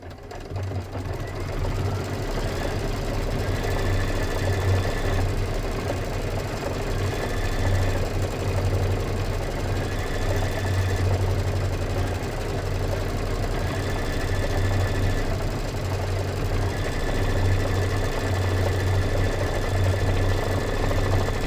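A Kimberbell embroidery machine stitches quilting on a spring-themed border and sashing block, a steady mechanical hum with a rapid needle rhythm running continuously at close range.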